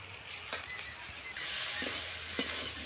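Ground cumin paste goes into a hot pan of spiced chana dal and bean curry, the soft background hiss jumping to a louder, fuller sizzle partway through, with light stirring knocks.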